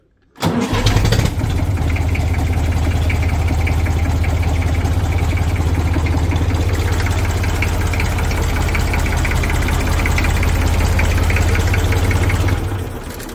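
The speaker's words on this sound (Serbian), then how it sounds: "Lepo pali, lep rad, videli ste kako znači pali 539 kad je sve dobro" An IMT 539 diesel tractor engine cranks and catches, then settles into a loud, steady idle with a rhythmic knocking chug before easing down.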